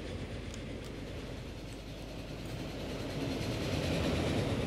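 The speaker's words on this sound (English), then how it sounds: "we got a train passing." A train rolls past in the Transport Fever game on a UK map, a steady rumbling roll with faint rail clatter that swells gradually louder toward the end, with no voices.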